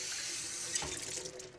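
A kitchen tap runs in a steady broadband rush, filling or washing at a sink, close and fairly loud for its whole length with no voices over it.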